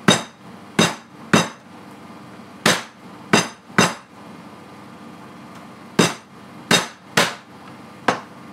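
A hammer beats chicken breasts flat for schnitzel in repeated sharp, close strikes, some in quick pairs, with a pause in the middle before a final run of blows.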